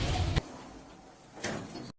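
Lift doors in a shopping mall lift in Masonville City, UK slide shut: a short whooshing rumble at the start, a quieter pause, then a second broadband sliding sweep before everything cuts to silence.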